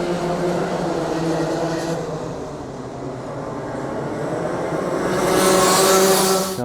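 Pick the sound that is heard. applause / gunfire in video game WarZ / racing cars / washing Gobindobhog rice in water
racing cars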